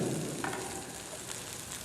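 Scallops searing in a hot pan give a soft, steady sizzle and crackle, fairly quiet and close, with no voices over it.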